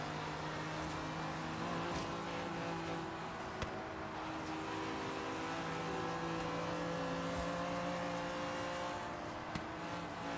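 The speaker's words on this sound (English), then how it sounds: "I do hear that car behind me a little bit." Several racing car engines in Forza Horizon 3 droning and whining steadily, with occasional revs and faint clicks, no talking.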